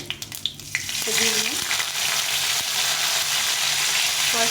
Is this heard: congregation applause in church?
no